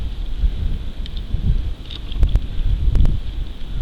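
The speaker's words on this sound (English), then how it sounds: "Very windy." Strong wind buffets the microphone outdoors on an evening, a constant low rumble with gusty swells and faint rustling, a few sharp clicks mixed in.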